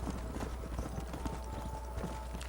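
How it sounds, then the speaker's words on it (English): Hooves of wild horses being herded clip-clop steadily in Red Dead Redemption, a continuous patter of hoofbeats at moderate level under a constant low game rumble, with no talk. "I basically got herd these horses, wild horses, over there."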